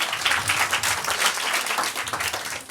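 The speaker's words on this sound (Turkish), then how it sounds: "Omega 5'i de alkışlıyoruz." Dense, sustained applause from a quiz night audience for a contestant, many hands clapping loudly and evenly throughout.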